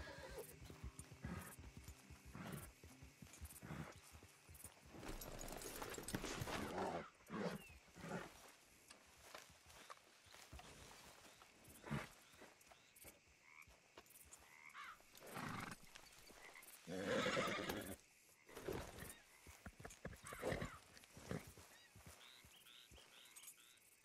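A horse whinnies loudly in Red Dead Redemption 2, with several neighs and snorts rising over quiet ambience and occasional hoof clops.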